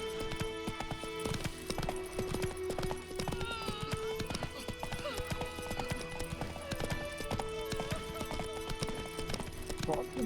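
Hooves of the horse Roach clip-clopping in the video game Witcher 3, a steady rhythmic trot over game music and ambience, with a brief whinny and someone talking over it.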